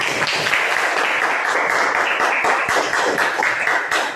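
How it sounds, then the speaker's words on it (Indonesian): Children clap together in a classroom, a steady wash of many small hands applauding at full strength throughout, with a faint voice mixed in. "Jadi Ibu mau kita semua beri aplaus untuk diri kita dulu."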